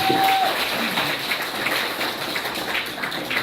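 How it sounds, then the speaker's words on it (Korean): An audience at a book launch celebration applauds after a congratulatory speech, a dense, even wash of many hands clapping from across the hall, steady throughout without a clear break. "큰 박수 부탁드리겠습니다."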